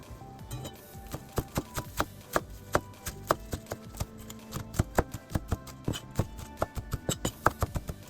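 A knife finely chops fresh coriander on a board with a quick, steady series of sharp taps that speed up into a brisk, even rhythm, close and clear with no talking.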